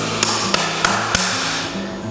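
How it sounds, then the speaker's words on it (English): A farrier's hammer drives a nail into a horseshoe on a horse's front foot, four sharp metallic blows spaced roughly evenly, close and loud over a steady low background hum. "And then drive it all the way in."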